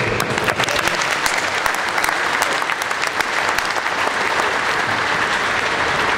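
Large audience at an evening nations' night gathering of a jet model flying championship applauding loudly and continuously, a dense steady wash of many hands clapping.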